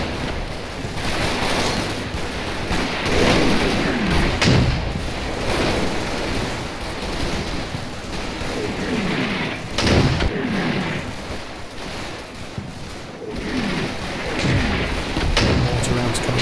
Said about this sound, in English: Mortar rounds coming in on the house.